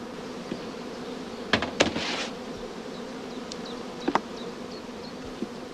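Honey bees around hive supers drone in a steady, close buzzing, with individual bees whizzing past and a few brief louder knocks or bumps against the hive.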